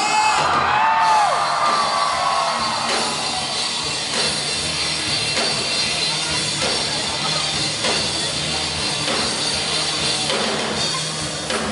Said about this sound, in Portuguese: ¡Un fuerte grito de Tabasco!